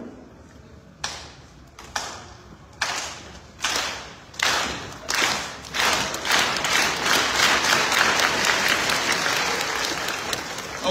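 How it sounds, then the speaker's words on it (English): An elementary school promotion audience clapping along, starting as sparse isolated single claps in a slow rhythm that spread and build into continuous dense applause. "that right there was what I call the consistency clap"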